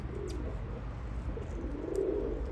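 Birds calling among a group of recently released birds, soft cooing notes repeating faintly over a low, steady outdoor rumble.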